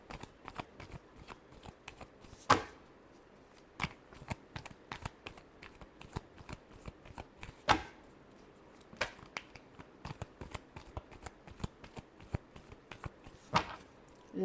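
Tarot cards being shuffled by hand, a run of crisp, irregular riffling flicks and snaps with several sharper louder slaps, close and without speech.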